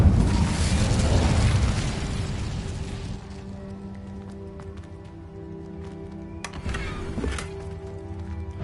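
An Incendio fire spell cast in Hogwarts Legacy on PS5 bursts with a loud, rushing whoosh of flame that fades into a quieter hum, followed by a few sharp clicks and a brief second flare.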